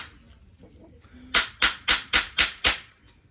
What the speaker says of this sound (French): j'utilise également un marteau en bois pour venir frapper à l'extrémité